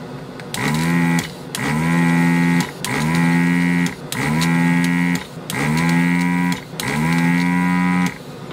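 A desoldering gun's pump whirs and groans in five evenly spaced, drawn-out pulses with brief pauses between them, sucking solder and partly blocked. The sound is loud and close, with no talking.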